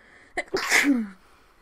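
A single close sneeze, a quick sharp intake followed by a loud explosive burst that trails off.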